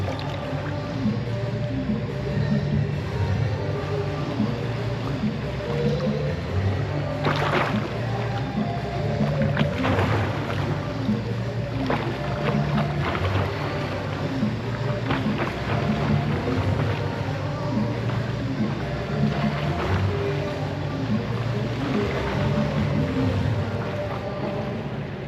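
A swimmer paddles and splashes in water, a continuous churning wash with irregular splashes and slaps, close and fairly loud, with no talking.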